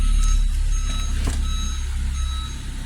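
A Ford vehicle shifted into reverse sounds its reversing alert as a series of steady, evenly spaced electronic beeps over a low engine rumble, heard close up.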